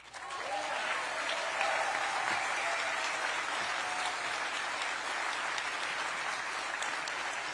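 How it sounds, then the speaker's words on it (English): A political convention crowd of Maine Democrats applauds county chairs, a steady dense clapping that swells in quickly and holds at a moderate, slightly distant level throughout. "So I know you may all get tired of clapping"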